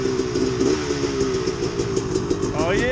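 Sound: 300 XCW and 450 XCW motorcycle engine

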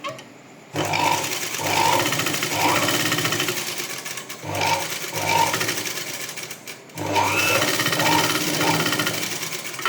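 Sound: sewing machine stitching blouse front piping

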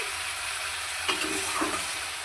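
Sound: eggs frying in hot oil in a pan

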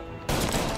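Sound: machine gun fire in Mafia Definitive Edition video game

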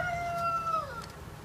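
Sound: rooster crowing

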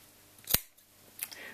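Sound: scissors cutting two layers of fabric

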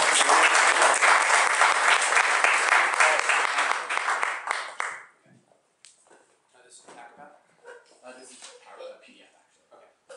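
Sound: audience applause for presenter

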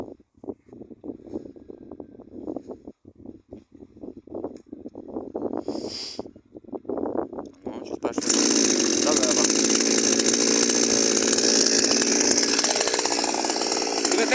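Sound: Sviatiaz petrol chainsaw cutting firewood

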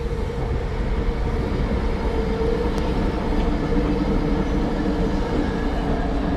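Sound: elevated train passing nearby

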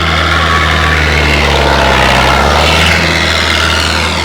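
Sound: tractor engine running

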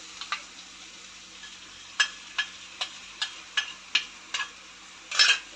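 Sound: stirring yogurt and spices in a pan for jackfruit biryani

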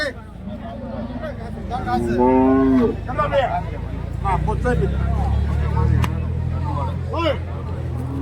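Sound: cow with calf at a cattle market, mooing

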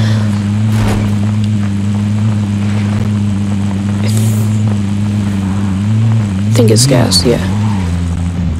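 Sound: vehicle engine driving in Call of Duty Warzone video game

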